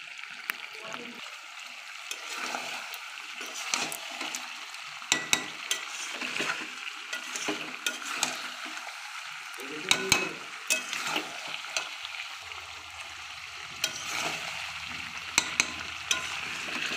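Meat being stir-fried with spices and shahi garam masala in a pan for a Bengali hasher mangsho curry, a continuous sizzle with scattered scraping and clinking from stirring, moderately close and steady.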